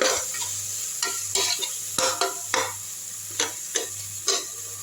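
Chili powder and coriander powder sautéing in hot oil in a pan, with a steady low sizzle broken by repeated rhythmic scrapes of a stirring spoon, close and with no voices.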